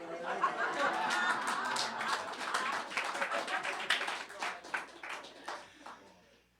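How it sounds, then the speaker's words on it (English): An audience claps for several seconds, the applause thinning into scattered individual claps as it fades, with some chatter and laughter mixed in. "thank you for that applause"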